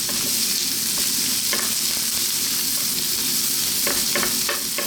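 Ginger, garlic and onion stir-frying on maximum heat, a loud, continuous close sizzle with occasional spatula tosses and scrapes, no talking.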